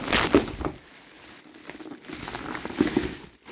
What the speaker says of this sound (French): je vais juste le déballer comme ça.